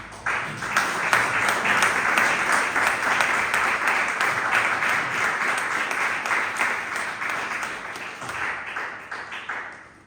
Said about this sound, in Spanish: Dan un fuerte aplauso a Cristo Jesús.